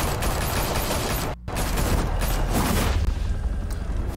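Police open fire in the video game Batman: The Telltale Series, a dense continuous fusillade of booms and shots filling the whole stretch, broken only by a brief drop near the middle, with no talk over it.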